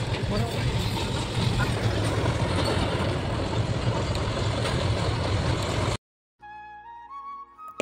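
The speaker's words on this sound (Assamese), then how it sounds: "ইফালে ট্ৰেন আহি আছে আৰু ট্ৰেনৰ গেট বন্ধ কৰি দিলে" A train rumbles past at a closed railway level crossing, a dense, steady low roar and clatter heard up close for about six seconds before cutting off, followed by faint tonal sounds.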